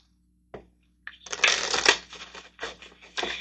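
Tarot cards being shuffled close up in several crisp, papery riffling bursts with short pauses between them, with no voices.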